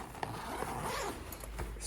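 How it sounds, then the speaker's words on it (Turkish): Thick zipper on a rifle case being pulled, a continuous close rasping slide with a few sharper clicks and scrapes along the way, no talking. "Bizim kullandığımız fermuar kalın"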